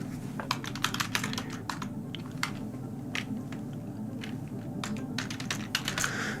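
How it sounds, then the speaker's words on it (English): An email address is typed on a computer keyboard in quick, uneven bursts of crisp key clicks, close and fairly quiet, over a low steady background hum. "I'm just typing my email address into the chat."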